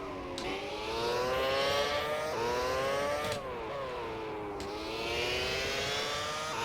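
Renault Formula 1 car engine in the video game GP4, a high screaming engine rising in pitch through the gears with quick drops at each shift, loud and continuous with no voices.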